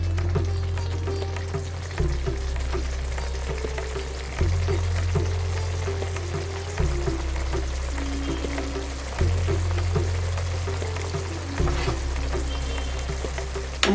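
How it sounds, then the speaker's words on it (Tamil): Tomato masala sizzles and fries steadily in a kadai, a continuous hiss of oil with occasional stirring, over a low, shifting tonal bed that runs the whole time. "இப்போ இந்த மசாலா தக்காளி எல்லாம் குழஞ்சி வெந்து பச்சை வாசனை போய் எண்ணெய் பிரிஞ்சு வரட்டும்"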